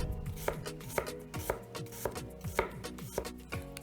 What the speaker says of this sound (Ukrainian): Нарізаємо цибульку